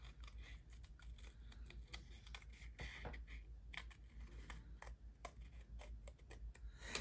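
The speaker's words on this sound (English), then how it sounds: "trim around that with my scissors" Scissors trimming around a traced paper circle one inch in diameter, snipping close by in a quick, uneven series of short crisp cuts over faint room hum, with no talking.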